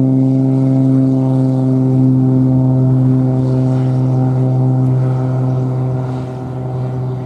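A loud, steady propeller engine drone from a light plane taking off from runway 17 at Cannes-Mandelieu airport, strong and continuous, easing slightly toward the end as it moves away.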